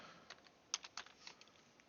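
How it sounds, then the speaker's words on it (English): Quiet computer keyboard typing: a handful of irregular, brief clicks and taps spaced unevenly over about two seconds, faint and close, with no voices. "I'm having trouble typing"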